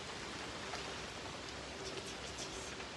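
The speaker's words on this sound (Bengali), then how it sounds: "আবার বৃষ্টি পড়ার চালু।" Steady rain falling outdoors in a village, a soft, even hiss of drops with no breaks, faint and continuous, with no voices.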